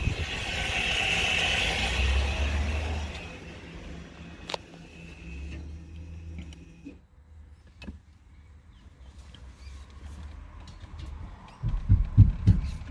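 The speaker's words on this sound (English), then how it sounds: "after that, you'll hear the motor moving back, which you just heard" An electric park brake motor on a Mazda whirs as it retracts inside a quiet parked car, a low mechanical hum fading out, followed by a few soft clicks and a short burst of low thumps at the end.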